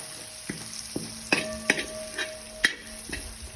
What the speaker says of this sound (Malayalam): വെളുത്തുള്ളി ഇഞ്ചി ചെറുതായിട്ടൊന്ന് വഴണ്ട് വഴന്ന് വരുമ്പോൾ അതിലേക്ക് കറിവേപ്പില പച്ചമുളക് നമ്മൾ അരിഞ്ഞു വെച്ചിരുന്ന പച്ചമുളകും കൂടി ചേർത്ത് നന്നായിട്ട് ഒന്നും കൂടി വഴറ്റിയെടുക്കുക